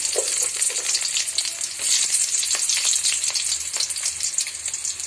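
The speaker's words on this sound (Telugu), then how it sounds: "ఆయిల్ హీట్ అయింది, దాంట్లో ఆవాలు వేసుకోవాలి, దాంట్లో ఆనియన్ వేసుకోవాలి." Mustard seeds and onion frying in hot oil for an old-style dal rasam, a loud dense sizzle close by with crackling bursts and popping, continuous and without talk.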